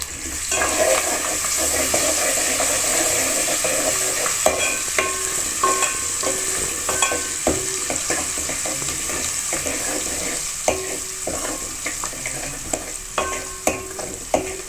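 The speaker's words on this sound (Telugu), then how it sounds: "పసుపు వేసుకొని వేయించుకోవాలి." Cumin and turmeric fry in a hot pan with a constant close sizzle, marked by frequent scraping and tapping as a spoon stirs them.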